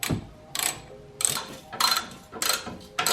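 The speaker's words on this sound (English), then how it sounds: "So now I can take the shock and push it up and tighten the bolts down even more." Ratchet tightening shock bolts on a Toyota Tacoma front suspension during a Fox 2.5 coilover lift install: close, loud bursts of rapid ratcheting clicks in several separate strokes with short pauses between.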